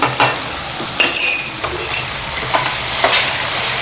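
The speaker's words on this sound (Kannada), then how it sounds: "ಚೆನ್ನಾಗಿ ಫ್ರೈ ಮಾಡ್ಕೊಳ್ಳಿ ಅದು ಹಸಿ ವಾಸನೆ ಹೋಗೋ ತನಕ" Chili powder and coriander powder fry for tomato sambar in a pan, a loud, close, constant sizzle broken by repeated scraping strokes of a spoon stirring, with no voices.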